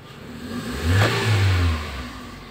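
A 2003 Toyota Vios engine with a heavy, sluggish throttle, unstable RPM and vibration revs up once from idle, swelling to a brief mid-pitched roar before settling back, close and without talk.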